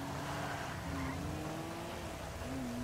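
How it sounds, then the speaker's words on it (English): Steady rain hiss fills a car racing video game during a drift run, with a faint engine drone underneath, constant and even with no voices. "Oh, it's raining."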